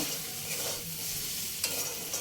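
Fried semolina stirred into cooked potatoes and vegetables in a pan over low flame for spicy suji, giving a soft, steady sizzle with quiet scraping and stirring sounds, one brief sharper clink near the end.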